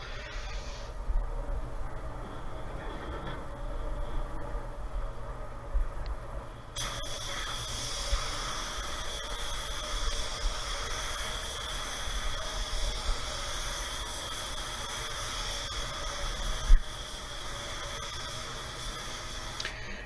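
White pearl paint going on as a first medium-wet coat from a spray gun, a steady close hiss that jumps louder and brighter partway through and then runs on continuously with a brief sharp click near the end.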